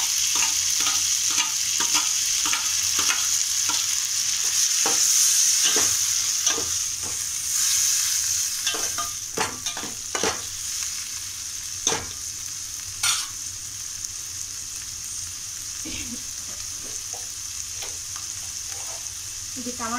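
Chopped tomatoes sizzle steadily in a hot pan for an egg, potato and tomato curry, with a loud continuous fry and repeated scraping clinks of a stirring spoon, close up and without talk.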